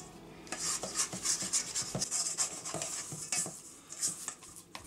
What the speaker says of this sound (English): I'll swap to my bowl scraper to finish it off and scrape down the sides of the bowl.